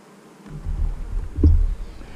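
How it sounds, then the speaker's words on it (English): A beehive in poor condition after its queen failed to return from a mating flight, with a low, steady buzz from the remaining bees swelling briefly partway through, close and moderately loud, no talking. "These are just the bees that I had in there."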